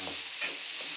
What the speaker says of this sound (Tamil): வெங்காயத்தை நல்லா வதக்கணுமா, அதை வதக்கிக்கிட்டே இருக்காங்க